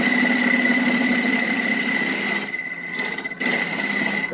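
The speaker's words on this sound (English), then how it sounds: "You're scraping the wood off." A lathe spins a segmented wood bowl as a scraper works the surface, giving a steady, close, grinding whir with strong tonal hum; the scraping drops away briefly near the end, then resumes.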